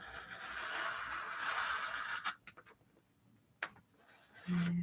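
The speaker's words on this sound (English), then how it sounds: "Again, cut around it using your knife." A craft knife scrapes and rasps steadily as it cuts around a piece of mirri card, followed by a few sharp, isolated scratchy strokes and a short hum near the end. The cutting is close and fairly quiet, with no talking.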